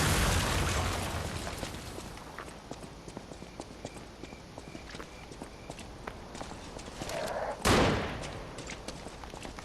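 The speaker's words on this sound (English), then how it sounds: "Another exploding puppet." An exploding puppet enemy in the video game Lies of P goes off with a single loud, sharp blast late on, after a stretch of clattering game footsteps and rhythmic impacts.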